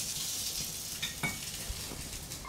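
Threadfin fish pan-frying in oil, a soft, steady sizzle with a few light clinks of utensils against the pan, heard close and fairly quiet.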